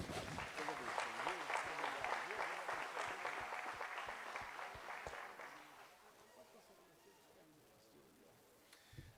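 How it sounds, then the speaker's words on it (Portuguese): Steady applause from a crowd with a faint voice underneath, fading to quieter room noise after a few seconds. "Aplauda ao Senhor"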